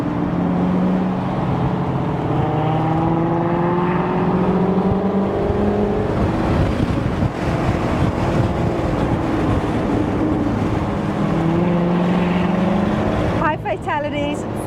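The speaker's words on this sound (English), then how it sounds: "trying to keep up with all these Corvettes in front of us doesn't get better than this" A line of Corvettes cruising the winding Tail of the Dragon road, engines droning steadily with shifting revs as the cars work through the turns; the sound is continuous and fairly loud, with a sharper burst near the end.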